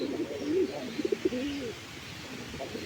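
Deshi raj golla pigeons coo softly nearby, a few low throaty warbling calls over quiet room noise.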